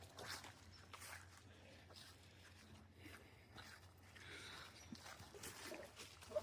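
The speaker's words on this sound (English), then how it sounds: "Here's my dog." A dog beside a salmon river makes quiet snuffling and soft whimpery noises along with light rustling movement, all fairly faint and close.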